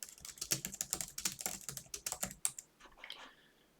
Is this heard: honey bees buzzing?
no